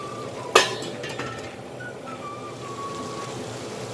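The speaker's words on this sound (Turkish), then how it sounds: "Kapağını kapatıyorum." A metal lid is set down on a cooking pot of harşo, a vegetable stew: one sharp clank followed by a faint lingering ring over a quiet kitchen background.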